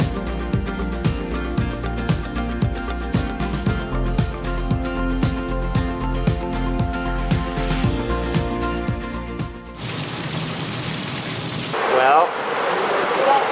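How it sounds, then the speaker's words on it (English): Heavy rain pours down on the steep ceramic-tiled staircase of Santa Maria in Sicily, a dense hiss rising abruptly after rhythmic music fades, with a brief spoken word at the start. "it's raining. It's like pouring."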